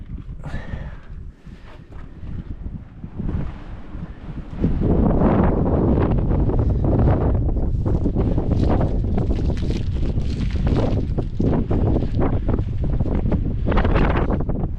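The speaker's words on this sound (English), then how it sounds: "It's gotten pretty windy" Steady wind at an abandoned mine buffets the microphone with a loud, continuous rumbling roar that swells and gusts throughout, rising noticeably after the first few seconds.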